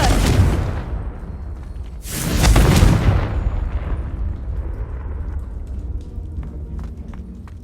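Two heavy booming blasts from the Confringo fire spell in the video game Hogwarts Legacy, one at the start and a louder one a couple of seconds later, each trailing into a crackling rumble, followed by light footsteps.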